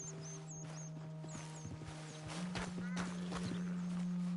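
Horse hooves clip-clop along a trail in Red Dead Redemption 2, a steady walking rhythm of soft close thuds under a constant engine-like hum, with brief bird chirps above.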